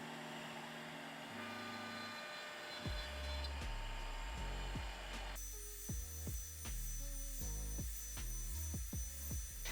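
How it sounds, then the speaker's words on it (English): A CNC machine cutting 3/4-inch cherry wood, a steady high whine at first, then joined by a series of deep, rhythmic thumps and sweeping tones as the cutter passes, loud and close. "We decided to use the CNC machine because you can get such precise carvings to keep it really neat and clean."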